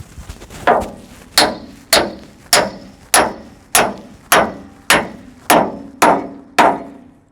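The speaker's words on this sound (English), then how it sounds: "Drive this pin home." A hammer drives a steel pin into a 25-foot man-lift hydraulic cylinder during a rebuild, with about eleven sharp, ringing metallic blows struck at a steady, even pace, loud and close with no talk.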